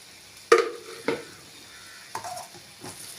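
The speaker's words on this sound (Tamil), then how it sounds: "நல்லா கலந்து விட்டுக்கோங்க" A spoon scrapes and knocks against a pan while potato masala is stirred, a few distinct clanks and scrapes spaced apart over a low sizzle, close and without talk.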